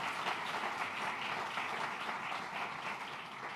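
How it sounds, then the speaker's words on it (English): A crowd applauds Congressman Dan Goldman at a New York food assistance announcement, steady dense clapping sustained without a break throughout. "Let's give a round of applause to Congressman Dan Goldman."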